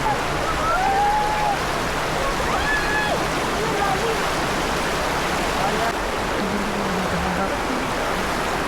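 Steady broadband rush of flowing river water fills the clip, with voices talking faintly over it.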